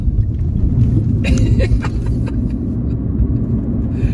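A 2018 Smart Fortwo electric coupe drives through town and turns, giving a steady close road rumble with tyre and cabin noise and no voice over it.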